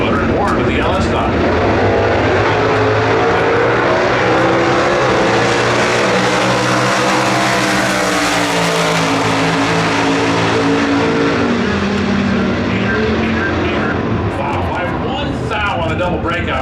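Big-block 427 COPO Camaro stock drag cars roar loudly down the strip, a sustained engine blare that swells and passes close by, with an announcer talking over it.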